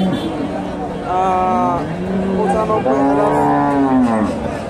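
Cows low repeatedly at a busy cattle market, several long, loud moos in succession close by, with crowd chatter and background noise underneath.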